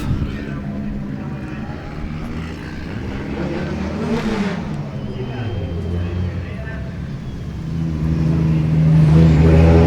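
A 540-horsepower Nissan 200SX drift car in RDS GP qualifying at Sochi, its engine roaring and revving continuously and loud, with the pitch swelling toward the end, under a commentator speaking throughout.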